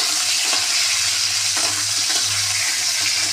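Vegetables frying in a pan with turmeric for a potato and pointed gourd curry, a loud, steady sizzle close up with brief stirring scrapes and no talking.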